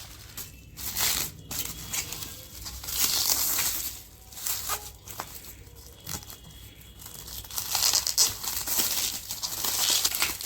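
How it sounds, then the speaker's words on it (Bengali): Plastic packaging crinkles and tears in bursts while a motorcycle backrest for a Honda CB 350RS is unpacked, with rustling, crushing handling noises continuing close by throughout and no talk. "চলো এটাকে আগে আনপ্যাক করে নিই"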